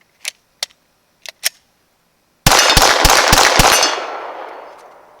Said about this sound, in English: That was pretty impressive that all those rounds fired